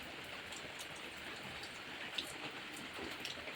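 Soft, steady hiss of monsoon rain falling outdoors near a pond, a continuous fine patter at moderate distance with a few brief drips and no voices.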